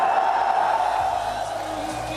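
An audience at a political rally in Muzaffarabad, Azad Kashmir, addressed by Prime Minister Nawaz Sharif, gives loud sustained applause and cheering that fades slightly, over a low hum.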